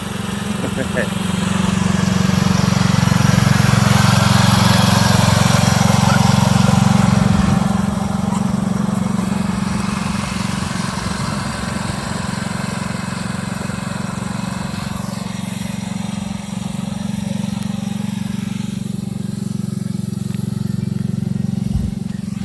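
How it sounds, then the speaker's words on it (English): A John Deere 111 lawn tractor runs steadily while mowing, its engine a loud continuous drone that eases slightly partway through, with a person talking over it. "her new old John Deere 111 tractor"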